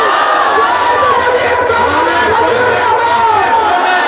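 A large crowd at a religious gathering roars back the Nara-e-Takbir call in one sustained, loud, dense wave of massed voices that fills the whole moment.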